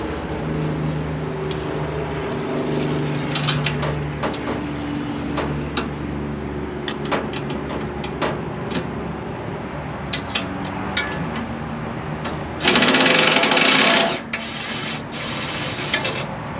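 A mid-torque impact wrench works on a broken truck fender bracket. Scraping, rubbing and scattered metallic clicks lead up to one loud, close burst of hammering lasting about a second and a half, followed by more handling clicks.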